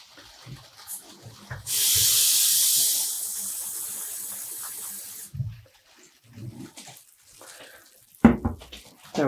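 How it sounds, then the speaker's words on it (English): Tap water runs into measuring cups for about three and a half seconds, a loud steady hissing gush that stops abruptly, followed by quiet clinks and handling sounds. "I'm filling these measuring cups to the top, so there's 2 liters in each."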